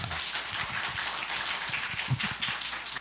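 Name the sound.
audience applause welcoming the pastor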